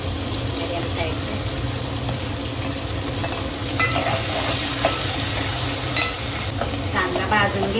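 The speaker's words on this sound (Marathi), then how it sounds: "कांदा भाजून घेते मी लालसर" Three medium onions fry and are stirred in a pan for a Marathi mutton rassa, a steady close sizzle running throughout with scraping stir strokes and faint clinks near the end.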